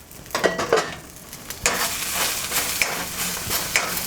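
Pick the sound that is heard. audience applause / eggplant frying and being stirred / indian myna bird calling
eggplant frying and being stirred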